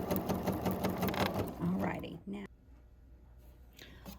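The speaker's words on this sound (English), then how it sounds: "There's something very satisfying, I think, about just sewing along the line sometimes." Domestic sewing machine stitching along a marked line on a cotton quilt block, a close, steady rapid whir for about two seconds that then stops, leaving quiet room tone with a faint voice.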